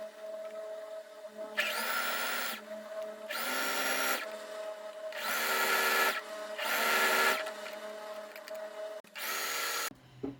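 A domestic sewing machine sews a plus-size ring swimsuit, its motor whirring in five or six separate bursts of roughly a second each, with short quiet pauses between runs.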